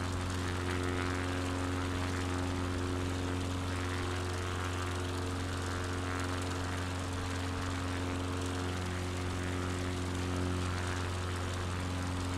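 A light aircraft in flight drones on steadily as it nears a grass airfield to land, its propeller engine loud and continuous from inside the cabin, with no talking.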